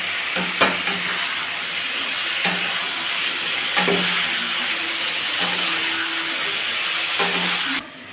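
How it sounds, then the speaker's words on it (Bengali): Whole bay leaves, garam masala spices and cloves frying in oil, a constant close sizzle broken by several sharp scrapes and knocks of a spoon stirring the pan. "এরপর পড়বে এই গোটা তেজপাতা গরম মশলা লবঙ্গ সব গোটা পড়ে যাবে আবার এটাকে নাড়াচাড়া করতে হবে"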